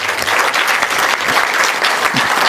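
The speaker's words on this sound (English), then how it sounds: "give yourself a nice round of applause." A large audience claps together in a dense, even round of applause, close and loud throughout with no speech over it.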